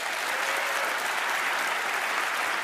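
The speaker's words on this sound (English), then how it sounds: "Big round of applause." Studio audience at a magic competition show bursts into steady, full applause, a dense even wash of clapping throughout.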